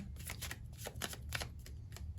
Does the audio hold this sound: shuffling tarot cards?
yes